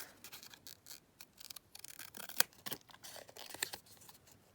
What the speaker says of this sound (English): I got my hair thinning scissors, whoops. Let's cut this stamp down.